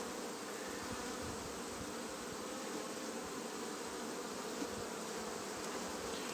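Honey bees hum at the hive in a dense, steady buzz of many insects, close and continuous with no pauses.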